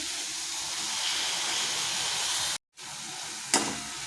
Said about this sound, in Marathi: तर आता मी याच्यात सुकट टाकत आहे